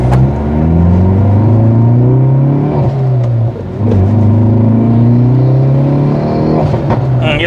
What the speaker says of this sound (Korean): 이렇게 가속감이 그래도 좋다는 것만 여러분도 아실 수 있어요